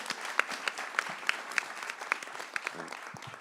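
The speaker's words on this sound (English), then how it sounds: "So please, a round of applause for everybody here today." Audience applause at a Collingswood meet-the-candidates election forum for local borough government, a steady sustained clapping from a room of people with sharp individual claps standing out, moderately loud and continuous with no talk.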